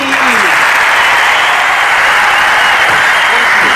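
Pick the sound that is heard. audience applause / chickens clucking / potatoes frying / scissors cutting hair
audience applause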